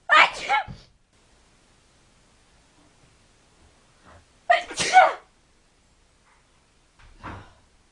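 Three separate sneezes, loud and close, the second one strongest, with near silence between them.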